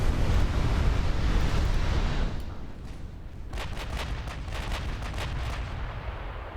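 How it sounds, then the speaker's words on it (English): Secondary guns on a warship firing at a destroyer during a World War II naval battle game, heard as a dense roar of distant booming gunfire over a steady wash of sea and wind, then a run of sharper, repeated shots. "That destroyer getting handled by the secondary guns."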